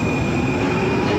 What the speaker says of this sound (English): there goes my tram.